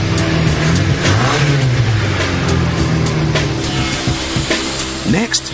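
A car engine in a London garage cranks and catches after its fuel pipes are rejoined, then runs and revs up close and loud. A rough rattling idle follows.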